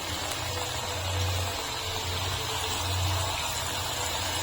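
Pitha dropped into a wok of lightly heated oil, giving a steady, broad sizzling hiss close by, with a faint low rumble pulsing underneath.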